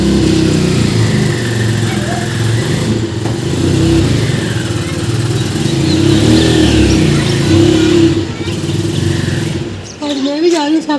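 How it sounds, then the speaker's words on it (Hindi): A family car's engine idles and revs steadily nearby as it is driven out of a home driveway, with people talking over it, before the engine note fades near the end. "पापा जी गाड़ी बाहर निकालने लगे हैं"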